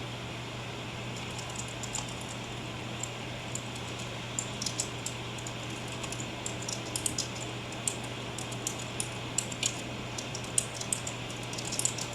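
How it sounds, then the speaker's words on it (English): Keys clatter on a computer keyboard in irregular quiet bursts over a steady low electrical hum, with no voices. "Let me finish typing this."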